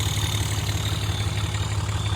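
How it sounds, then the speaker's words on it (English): A hotshot truck engine idles steadily with its intake open and no air box fitted, giving a loud, continuous low rumble with a hissing intake roar on top, close to the microphone and with no talk over it. "Gosh, this intake's loud with no air box on it."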